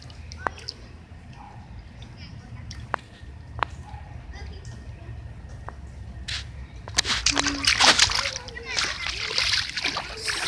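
Splashing through flood water on a flooded street on a rainy day, with steady rain hiss underneath and a loud burst of sloshing splashes in the second half, a few sharp drips earlier, and someone talking nearby.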